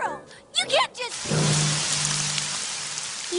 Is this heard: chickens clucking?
no